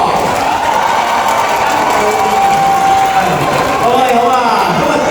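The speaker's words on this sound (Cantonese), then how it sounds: "俾大啲掌聲" At a fan meet-and-greet for a middle-aged singing contest's top fourteen, an audience claps and cheers loudly and steadily, with voices and shouts mixed into the crowd noise.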